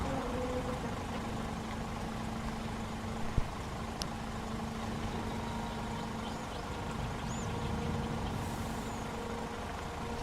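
A truck idles steadily while unloading trailer cargo in Farming Simulator 22, with a low engine drone, a hiss of air brakes, a couple of sharp clicks and faint beeps over the constant rumble.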